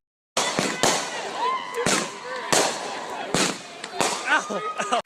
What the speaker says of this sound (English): we shot a bunch of fireworks